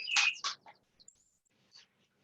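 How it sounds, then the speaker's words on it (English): Blackbird singing outdoors near a yoga class, a loud clear burst of several fluted phrases followed by fainter scattered chirps, heard alone without talk. "My blackbird's not getting in the way of you hearing me, is it?"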